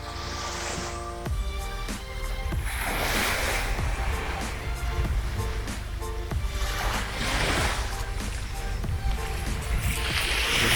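Gentle waves wash over shallow water on a wide, fine-sand beach in Palawan, a steady soft surf with recurring swells and light splashes, no talk.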